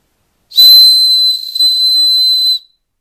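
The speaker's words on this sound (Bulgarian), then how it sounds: "В него е вградена свирка." A whistle built into a magnesium fire starter blows one loud, shrill, steady tone for about two seconds, with a brief wobble midway, then stops abruptly.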